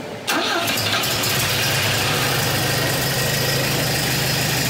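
A restored Volvo Amazon with its B20 engine cranks briefly and fires up, then settles into a steady, loud, even idle that runs on to the end, with no talk over it.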